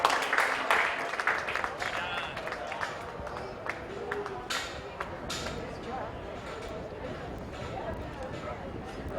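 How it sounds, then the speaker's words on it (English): A polo crowd gives both teams a round of applause after a match, light scattered clapping at moderate distance, fading under a steady outdoor crowd murmur and a nearby voice. "Let's give both these teams a round of applause."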